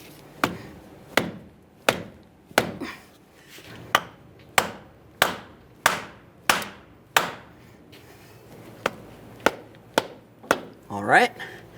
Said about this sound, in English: Now, as you slide it in, you're going to find it only goes so far before you'll have to start tapping it into the proper position.